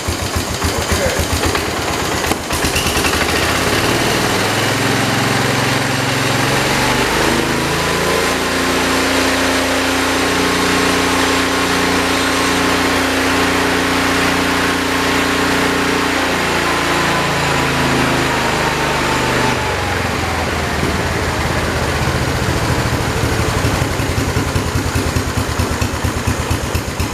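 A Kohler engine on a 1968 112 garden tractor runs steadily, its note rising as it is throttled up, holding a higher pitch for several seconds, then settling back down; loud and close with no talking.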